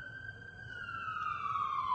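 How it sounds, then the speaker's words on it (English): Emergency vehicle siren outside, a faint distant tone slowly falling in pitch and growing slightly louder over two seconds. "we have more sirens."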